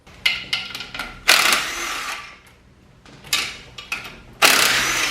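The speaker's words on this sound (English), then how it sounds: "I'm just gonna zap off all these pressure plate bolts real quick." Power tool rapidly zipping out clutch pressure plate bolts on an all-wheel-drive Honda, several short whirring bursts separated by pauses, loud and close.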